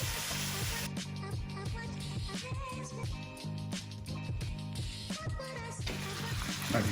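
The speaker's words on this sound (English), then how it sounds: "we're basically looking to sear them all" Veal rollatini rolls sear in a hot pan, a steady close sizzle that continues throughout beneath loud tonal background music.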